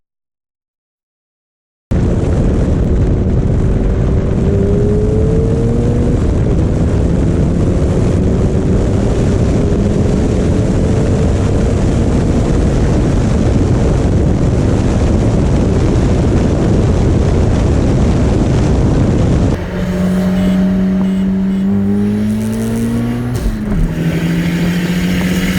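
Toyota MR2 Turbo and Mitsubishi Eclipse GSX in a roll race in Mexico: after a brief silence, a loud, steady engine roar with rising tones and heavy wind noise, then a harsher, shifting engine note near the end.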